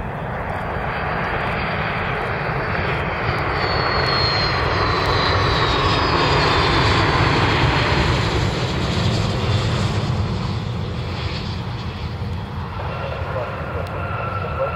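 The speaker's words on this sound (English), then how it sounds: "Got a Flexjet Gulfstream inbound from Cuyahoga County Airport on the east side of town." Flexjet Gulfstream business jet inbound to land on the east side of Cleveland, a steady loud broadband roar that swells slightly and holds throughout, with no talk.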